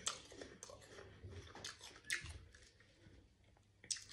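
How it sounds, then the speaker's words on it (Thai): Crisp white jade jujube fruit being chewed up close, with quiet, wet, crunchy bites and squishy mastication in a few irregular bursts, no voices. "ขออนุญาตเสียงดังนิดนึงนะคะเวลากินเนี่ย"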